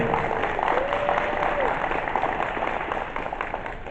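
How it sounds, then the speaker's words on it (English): Steady applause from an audience for an orchestra at a school info night fills the whole stretch, moderately loud, with a faint voice rising briefly above the clapping. "let's give one more round of applause to our incredible orchestra"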